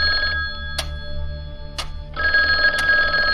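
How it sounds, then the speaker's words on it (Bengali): A telephone bell rings in a hall, loud and close, in insistent trilling bursts with brief gaps between them and no voices. "হলঘরের মধ্যে ফোনটা ক্রিং ক্রিং শব্দে বেজে উঠল"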